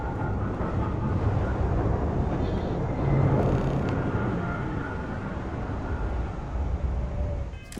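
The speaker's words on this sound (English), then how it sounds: "Oh, I think a ship's taking off." A spaceship lifts off in the video game Starfield with a steady, loud, broadband roar like a jet or heavy engine that holds for several seconds and surges briefly partway through.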